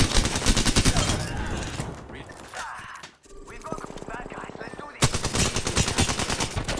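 An EVA-8 Auto shotgun fires in the video game Apex Legends, sending loud, rapid bursts of blasts. A quieter spell with scattered shots follows before the heavy fire resumes, and a voice is faintly present.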